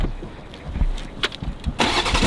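A BMW 8 Series sports sedan engine cranks and fires up, with a short burst of exhaust roar at the end after a quieter build-up of mechanical noise.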